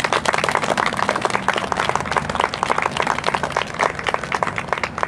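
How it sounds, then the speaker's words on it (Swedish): An audience at a summer speech event in Gustavsberg breaks into dense, continuous applause, many hands clapping together at close range for the full stretch. "Återigen, en stor applåd till Stefan."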